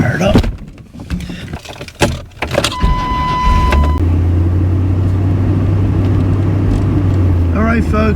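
A car engine is started on a windy campsite. Door and interior clunks come first, then a brief electronic chime, then the engine catches and settles into a steady, close, low idle rumble.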